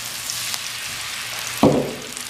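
Two eggs drop into hot frying masala for egg bhurji, bursting into a sudden loud sizzle that settles into steady crackling frying, close up.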